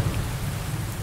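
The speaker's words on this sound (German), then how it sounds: "Ich crafte, es regnet." Rain in the survival video game Under A New Sun falls as a dense, steady wash with a low rumbling undertone, continuous and moderately loud with no talking over it.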